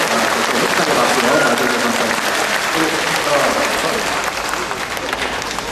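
Steady, dense applause from a concert audience fills the hall after a community club orchestra performs in Seongnam, with a voice speaking over the clapping.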